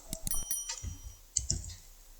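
Keys on a laptop keyboard are tapped in a quick irregular burst of crisp clicks, then a short pause and a second small cluster of presses, close and quiet.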